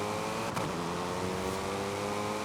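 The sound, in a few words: front-wheel drive race car engine revving, Forza Horizon 5 video game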